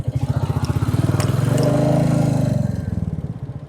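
A motorcycle rides through tea gardens in Sreemangal on a hilly estate road, its engine chugging steadily close by and swelling in a smooth rev midway before easing back down.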